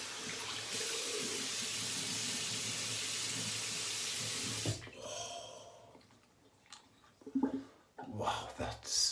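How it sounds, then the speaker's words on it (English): Water runs steadily from a bathroom tap for rinsing after shaving, a hissing stream for several seconds before it shuts off, followed by quieter splashes and handling sounds close by. "Rinsing down here, be with you in a minute."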